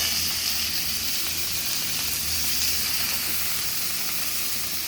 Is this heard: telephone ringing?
no